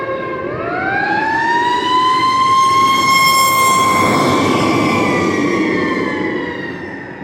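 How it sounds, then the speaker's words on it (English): A fire truck siren wails past on a city street in Florence, rising to a loud, sustained tone, peaking near the middle and then fading as it moves away. "Oh, fire truck."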